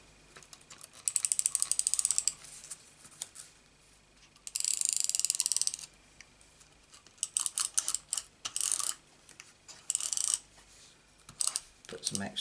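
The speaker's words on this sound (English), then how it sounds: "we need to use temporary tape to stick this on." Temporary tape pulled and torn for sticking paper down in a papercraft stamp project, heard as bursts of crisp ripping and crackling, several close, loud strips separated by quiet pauses.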